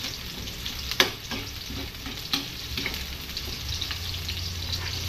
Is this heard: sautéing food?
yes